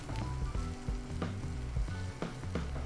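Onions and orzo sizzle steadily in a hot pan, a continuous close frying hiss with occasional stirring scrapes and no talking.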